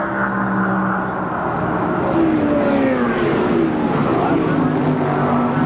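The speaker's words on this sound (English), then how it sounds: "Bill Elliott and Jeff Burton continue to run in 4th and 5th." NASCAR stock cars race in the 1996 Brickyard 400, a loud continuous engine roar with rising and falling pitch sweeps as cars pass close by.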